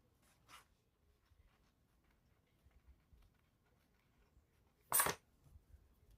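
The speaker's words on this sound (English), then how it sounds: "So I'm just going to make little snips with my scissors just to help it when I turn it." Scissors make two small, quiet snips into thick bag fabric while sewing a shoulder bag, one near the start and a sharper one later, each separated by a long stretch of near silence.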